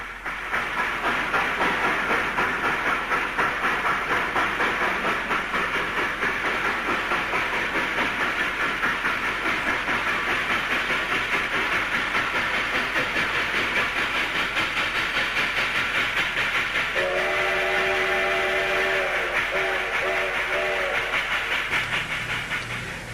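A small U.S.-built steam locomotive with slide valves and link-and-pin couplers runs with a steady, close, continuous hiss and rhythmic chuffing. A brief tonal whistle-like sound rises near the end.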